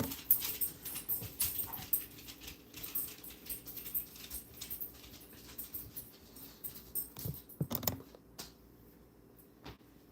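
Dogs off to the side give soft whimpers and light panting amid faint creaks and household movement, quiet and intermittent, with a couple of sharper sounds near the end.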